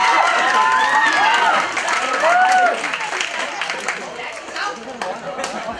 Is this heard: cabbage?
no